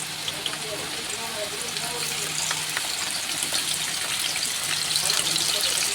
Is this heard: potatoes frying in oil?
yes